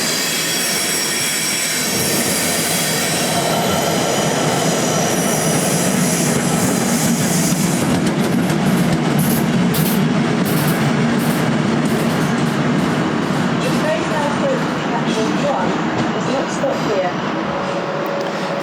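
A Class 171 diesel train rumbles steadily past at close range at Ashford International station, wheels grinding with a sustained metallic hiss and occasional squeal, loud throughout.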